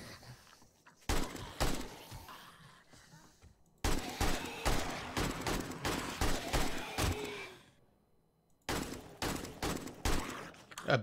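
Gunfire in the video game 7 Days to Die: bursts of rapid shots in three loud clusters, each a dense rattling volley, separated by short quieter gaps with faint background sound.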